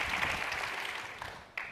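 An audience applauds at an evening conversation event, giving a steady wash of clapping that holds throughout and swells briefly near the end.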